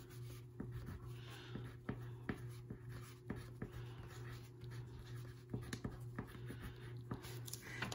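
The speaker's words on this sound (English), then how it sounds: "we're going to write our name at the top of our paper" A crayon scrapes across paper as a name is written at the top of the sheet, faint scratchy strokes and small taps in an irregular rhythm over a low steady hum, with no talking.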